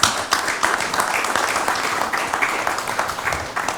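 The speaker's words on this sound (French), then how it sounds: "On peut l'applaudir." Dense, steady applause from an audience at an aviation talent forum in Paris, many hands clapping at once for several seconds, fairly close and loud with no voices over it.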